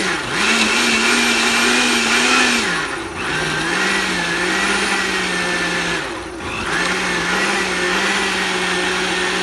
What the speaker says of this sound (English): And we're going to let it blend.